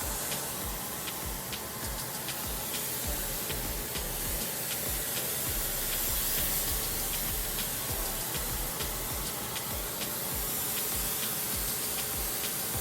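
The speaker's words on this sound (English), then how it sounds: "I just want to show you how I steam." Hair steamer during a wash day routine, giving off a steady, loud, broad hiss of steam that runs unbroken throughout with faint ticking beneath.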